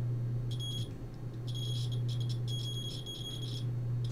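A multimeter's high continuity-test beep sounds in short bursts, some brief and some sustained, over a steady low electrical hum, while testing a laptop charger.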